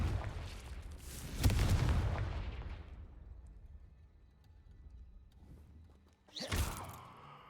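A Confringo fire spell blasts in Hogwarts Legacy, a deep booming explosion with a rumbling decay, followed a few seconds later by a second sharp, loud burst.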